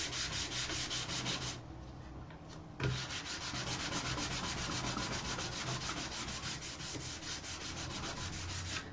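Continuous close-up rubbing of sandpaper on wood, steady back-and-forth strokes with a brief pause near the start of the third second, then a knock before the sanding resumes at even loudness.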